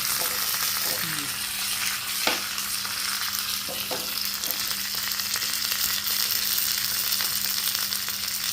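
Tempering spices and curry leaves sizzling in hot oil for a cluster beans kootu, a loud continuous crackling fry close up with a few sharp clinks and scrapes of a spoon against the pan, no voices.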